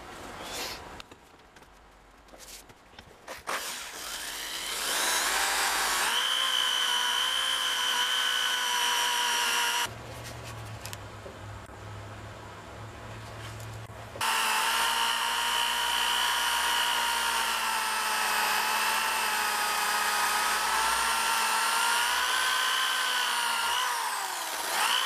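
A small hatchet being sanded with fine 600-grit abrasive, probably on a powered sander, gives a loud, steady motor whine with a high tonal hum. It runs almost continuously, with a brief change in pitch partway through and no talk.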